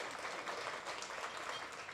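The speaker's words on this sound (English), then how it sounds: "You guys can clap, it's okay." Audience applause at an annual fall charity luncheon, steady dense clapping from a seated crowd that holds evenly throughout, fairly faint and distant.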